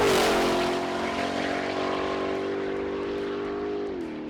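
A Ford Mustang GTD supercar drives on a race track with a loud sustained engine note that holds a fairly even pitch. It fades slightly and drops in tone near the end.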